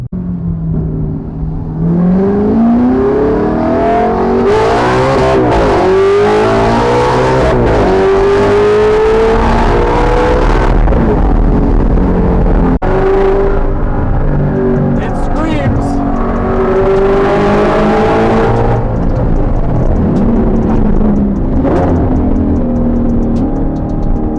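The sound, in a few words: Audi R8 exhaust revving on freeway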